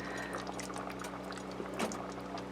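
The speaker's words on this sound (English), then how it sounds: "I'm going to begin to add milk because the soup is super thick" Milk poured into thick chicken and potato soup as a faint, steady liquid trickle over a low hum, with a slightly louder splash near the end.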